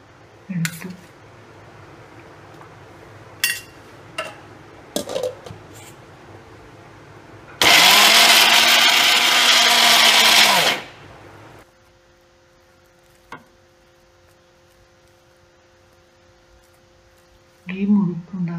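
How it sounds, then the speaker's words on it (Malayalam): A mixer grinder grinds jackfruit seeds into powder in a loud, steady whirring burst of about three seconds, with softer kitchen clatter and speech before and after it. "ഇപ്പോൾ ചക്കക്കുരു മിക്സിയിലിട്ട് പൊടിച്ചെടുക്കാനായിട്ട് മിക്സിയിലിട്ട് പൊടിക്കുന്നു"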